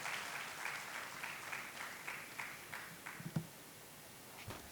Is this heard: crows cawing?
no